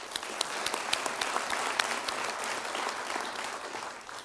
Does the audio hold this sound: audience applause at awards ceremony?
yes